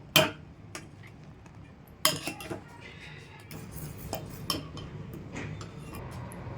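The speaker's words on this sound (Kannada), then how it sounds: "ಏನು ಕಟ್ ಮಾಡಾಕತ್ತಿ? ಬನ್ ಬ್ರೆಡ್ ಬ್ರೆಡ್ ಬ್ರೆಡ್ ಕಟ್ ಮಾಡಾಕತ್ತಿ." Knife cutting a bun bread, a few sharp clicks and taps of the blade striking a hard surface, irregularly spaced and fairly close, with quieter rustling between them.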